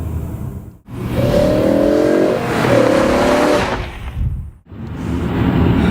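A BMW M5 engine drops through the gears from third to first while slowing for a red light, loud and close, with engine tones stepping and blipping between two sharp breaks in the sound.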